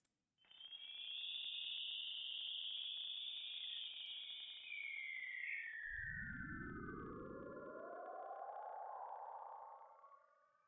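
Anomalous Schumann resonance signal rendered as audio: a sustained electronic tone that sweeps slowly downward in pitch, joined midway by a loud rising-then-falling low swoop, continuous and steady for about ten seconds with no voices.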